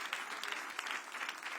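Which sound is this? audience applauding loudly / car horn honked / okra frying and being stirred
audience applauding loudly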